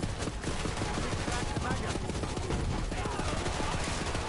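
Dense rapid gunfire from Borderlands 3 rattles almost nonstop, loud bursts and overlapping shots packed together with no pause, a brief voice faintly mixed in.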